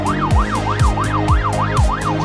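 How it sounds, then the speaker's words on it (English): A police siren from the city-builder game Cities: Skylines 2, in European or North American style, wails up and down in a steady rising and falling cycle. It is loud and close, with rhythmic low thumps underneath. "sirens match the European or North American theme of your city"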